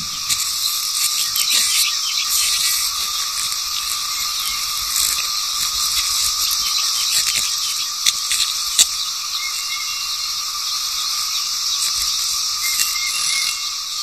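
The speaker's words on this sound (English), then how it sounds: "The cicadas have no defences and virtually offer themselves to their attackers." Cicadas in a seasonal forest keep up a loud, continuous high buzzing drone with scattered clicks and rasps throughout, steady and dense with no voices.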